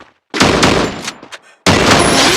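Gunfire from a gun in a battle royale video game, heard as two loud, close bursts of rapid shots separated by a short gap with a few trailing pops.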